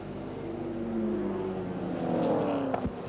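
Race cars speed past on a country racing circuit, engines swelling loudly as they approach and sweeping by close, with a sharp burst near the end as one goes past.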